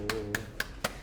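Four separate sharp claps, evenly spaced and fairly close, in a classroom during a lesson on functions, with a faint low hum underneath.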